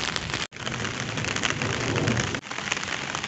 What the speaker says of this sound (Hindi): यहाँ पे तो बारिश हो रही है